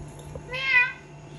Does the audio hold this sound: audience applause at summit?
no